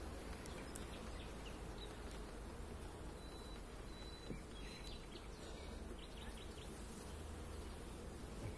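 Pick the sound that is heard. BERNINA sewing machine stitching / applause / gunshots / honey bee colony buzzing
honey bee colony buzzing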